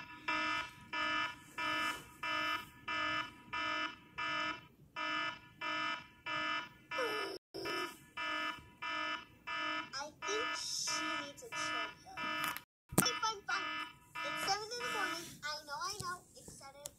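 An alarm clock beeping over and over in regular bursts about once per second, loud and close, with someone talking over the later part.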